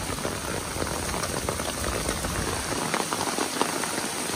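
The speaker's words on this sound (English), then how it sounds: "The rain. The rain. Fantastic." A heavy downpour in New York City hisses in a dense, constant wash of rain spattering on surfaces, steady from start to finish with no voices.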